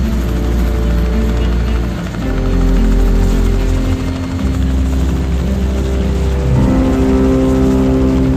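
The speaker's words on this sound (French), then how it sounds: "l'hélico peut continuer à bouger et lâcher comme ça, donc des bouées dans l'eau en avançant" A military helicopter on a nuclear submarine hunt, dropping sonar buoys into the sea as it moves, fills the air with a loud, close, steady rotor drone and a sustained engine whine.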